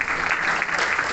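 A crowd at a school Urdu competition gives a brief burst of dense, steady applause for the girls.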